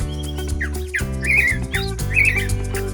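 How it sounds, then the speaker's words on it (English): Birds chirp and whistle in a morning countryside chorus beside a cob house build, with repeated bright trills and calls over a steady low background hum. "in the morning is that we have our own concert of birds"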